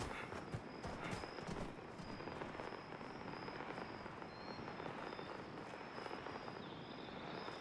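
Elk footsteps in Fallout 76 form a steady, dense patter of hoof-like thuds under a constant wash of game ambience, moderately loud and continuous throughout.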